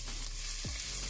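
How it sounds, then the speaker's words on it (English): Onion and scallion frying in a pot for split peas stew, a steady close sizzle with a brief stirring scrape partway through, no voices. "so we're gonna fry up the onion and the scallion first."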